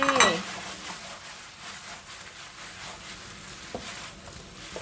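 Chicken wings stir-fry in sukiyaki sauce with chilies, giving a continuous close sizzle under repeated spatula scrapes and light clinks against the pan.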